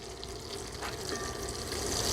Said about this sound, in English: So we got to get our onions to start sauteing into that a little bit.